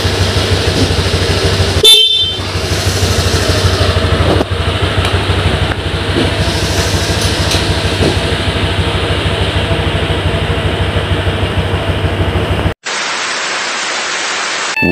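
A constant, loud Honda Click 125i scooter horn blares for many seconds under a hiss of static, then cuts off into harsh white noise.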